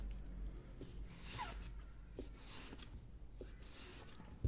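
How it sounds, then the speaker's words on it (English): Hedgerow material for a 1/35 scale model is sliced into small cubes, with faint scratchy cutting strokes repeated at an uneven pace, close but very quiet over a soft background hiss. "So I'll cut this up into little bits and pieces, squares, cubes."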